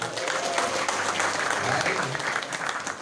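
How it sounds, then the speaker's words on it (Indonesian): Crowd applause at an Islamic study gathering, a dense, continuous burst of clapping filling the whole stretch at steady volume, with a voice faintly audible beneath. "Tepuk tangan buat Mang Uyung."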